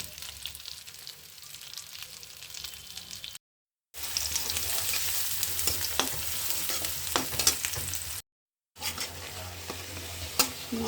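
Spices sizzle and fry in hot oil for a papaya and rohu fish curry, with crackling hiss and occasional stirring scrapes, broken by two brief silent cuts.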